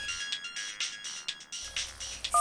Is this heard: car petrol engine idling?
no